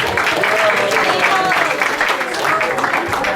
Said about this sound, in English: Can we have a big round of applause for this team?